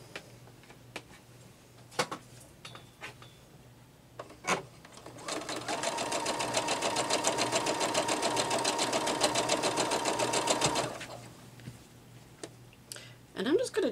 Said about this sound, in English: And we're just going to sew these down.